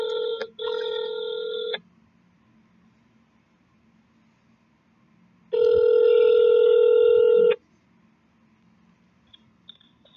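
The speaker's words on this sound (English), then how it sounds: "I'm just calling people on my phone and seeing who going to ride or not" A phone call rings out on the caller's end: two long electronic ring tones separated by several seconds of quiet, clear and steady with no voices.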